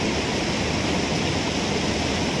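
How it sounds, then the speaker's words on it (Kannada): Water rushes steadily at Harangi Dam, a dense, continuous roar of flowing water that fills the whole moment without pause or voices. "ಹೆಂಗೆ ನೀರು ಹರಿತಾ ಇದೆ."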